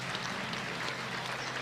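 A crowd claps at the awards ceremony of a county basketball tournament, giving a brief, dense patter of applause at moderate volume with no break.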